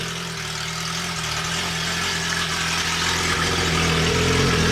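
A 2025 Suzuki GSX-R1000 motorcycle engine running after a spark plug change, a steady, close idle with a constant low throb and dense mechanical rumble, holding for about five seconds with a slight lift in loudness toward the end.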